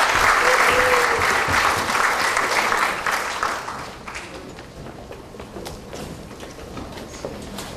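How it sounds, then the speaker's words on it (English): Loud, dense applause from a theatre audience for the volunteer cast of an original community play, sustained and then easing to a softer patter of clapping. "Give them a round of applause."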